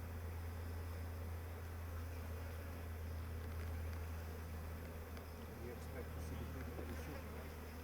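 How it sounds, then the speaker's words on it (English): A strong, populous honeybee hive opened at the brood area gives off a dense, steady buzz that carries on without a break, with a low hum underneath and faint background noise. "and it's packed with bees."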